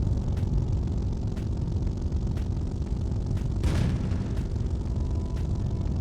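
A tank's cannon fires a single shell in a video game, a burst rising out of a constant heavy engine rumble, with faint regular ticks in the background.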